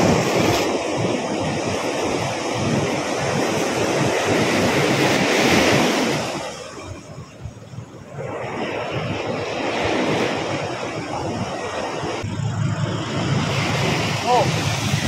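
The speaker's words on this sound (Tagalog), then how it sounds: "Lakas ng alon." Strong sea waves surge and crash during a fishing trip, a loud, continuous wash of surf mixed with wind buffeting the microphone that briefly eases midway before building again.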